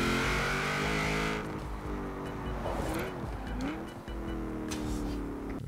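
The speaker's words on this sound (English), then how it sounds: "This car is too fast." Car engine in the racing game Forza Horizon 4, a loud sustained drone with shifting pitch as it revs and changes gear, continuous through the stretch, with a brief tire-squeal-like sweep midway.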